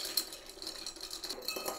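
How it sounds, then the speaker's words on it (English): Bar spoon stirring a Drambuie cocktail heavy with bitters, light steady clinking of ice against glass, close and quiet. "stir it down"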